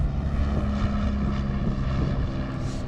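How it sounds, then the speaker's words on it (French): Low-flying propeller airplane passing overhead after a storm, a steady loud engine drone with a low harmonic hum that holds through the whole stretch without any talk. "Peut-être il y a un avion."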